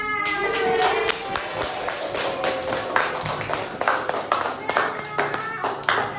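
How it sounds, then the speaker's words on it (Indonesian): A class of primary schoolchildren claps their hands in a classroom, a burst of many quick overlapping claps that thin into scattered, uneven smacks, with some voices mixed in. "Tepuk tangan buat Mas Sebastian."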